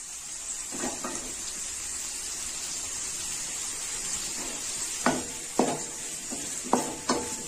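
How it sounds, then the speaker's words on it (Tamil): Ingredients for an egg tamarind curry are sautéed in a pan over a medium flame, a soft continuous sizzle broken by a few clinking, scraping stirs near the end. "அப்படியே வச்சு வதக்குனாதான் நல்லா கொஞ்சம் சவுக்க வதங்கும்"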